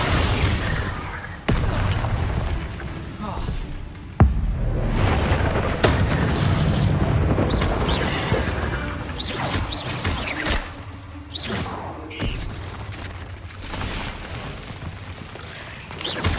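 Repeated fiery spell explosions in the wizarding video game Hogwarts Legacy, loud booming bursts and crackling blasts packed together throughout a busy battle, with sharp impacts standing out and the occasional shouted voice.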